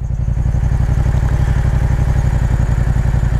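A Yamaha FZ-07 motorcycle engine runs at operating temperature after a coolant repair, a loud, close, steady idle with a deep, rapid pulsing throb and mechanical clatter throughout.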